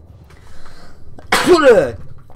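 A single sharp, loud sneeze bursts out after a moment of quiet, low background noise, followed by a brief trailing breath.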